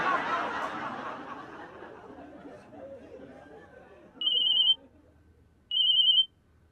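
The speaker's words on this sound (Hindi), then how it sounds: "मेरा ना फोन आ रहा है" Murmuring voices and chatter fade out, then two short electronic ringtone bursts sound clearly, a second apart, loud against near silence.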